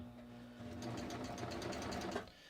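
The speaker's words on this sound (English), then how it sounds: "and then I'm just going to finish serging." A serger runs a continuous, steady whir as it finishes a garment seam around a neckline facing, starting after a brief pause and holding an even mechanical hum close by, with no talk.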